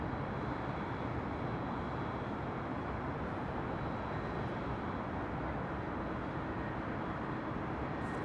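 A heavy transport jet taking off from runway 25 Left at LAX, its engines a steady, broad, unbroken roar heard from a distance with no voices.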